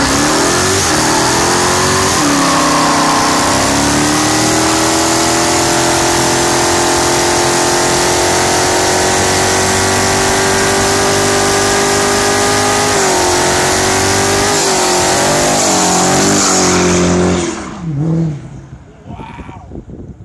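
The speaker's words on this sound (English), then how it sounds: "time to do a burnout in the brand new Dodge Charger Hellcat" A brand new 2015 Dodge Charger Hellcat with 707 horsepower holds a loud, sustained high-rev roar during a burnout, the engine note wavering and climbing for about seventeen seconds before abruptly dropping away near the end.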